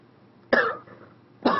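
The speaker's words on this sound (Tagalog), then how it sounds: "Ubo talaga ako." Two short, sharp coughs from a person, close and fairly loud, about a second apart in an otherwise quiet room.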